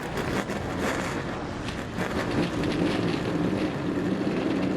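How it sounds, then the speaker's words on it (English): NASCAR Xfinity Series race car engines fired together at Pocono Raceway before the 2016 Pocono Green 250, a loud sustained roar blended with broad rumble and wind-like noise, with no speech. "The engines have fired."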